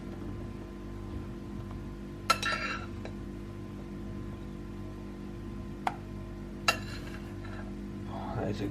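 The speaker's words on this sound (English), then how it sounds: "Now we are going to scrape in half of this with this here spoon." A spoon scrapes and folds cake mixture into a chocolate batter in a kitchen, giving a few soft clinks and sharp taps against the bowl over a steady background hum.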